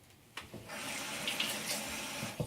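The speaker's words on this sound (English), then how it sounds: "I'm going to put some water in here." Water from a tap pours into a blender of melon for a smoothie, a short hissing splashing stream that starts abruptly and runs steadily for a couple of seconds at close range.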